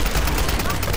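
Rifle fire from a Tomb Raider (2013) multiplayer team deathmatch: a quick burst of loud, sharp shots in about a second, with a voice talking underneath.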